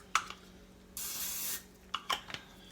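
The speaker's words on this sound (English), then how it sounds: "I'm going to spray my pan here" Aerosol cooking spray hisses onto a baking pan in a single half-second burst, framed by soft clicks and handling knocks from the can and pan.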